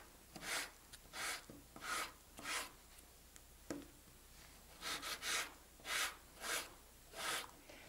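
Steady back-and-forth rasping of the fine side of a file on a silver metal clay ring, about a dozen even strokes with a short pause midway, close and fairly quiet.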